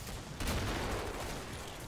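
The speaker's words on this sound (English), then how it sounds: "I just turned around to a massive explosion." A massive explosion in the co-op shooter Killing Floor, a loud, broad burst that swells and rumbles on for nearly two seconds amid game noise, with no talk.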